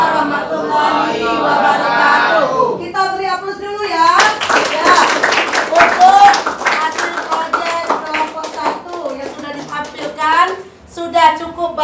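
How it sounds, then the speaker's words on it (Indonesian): A classroom gives applause after a student presentation: a dense burst of many hands clapping for several seconds, mixed with chatter and young voices talking, fading into scattered claps near the end. "Kita beri aplaus dulu ya."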